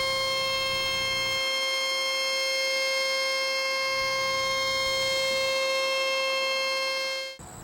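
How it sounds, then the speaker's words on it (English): Warning siren at the nuclear power plant in Salem Township near Berwick during a scheduled test, a steady multi-tone wail held for several seconds with a low hum pulsing beneath, cut off abruptly at the end. "If you thought you heard the sirens of the nuclear power plant in Salem Township near Berwick"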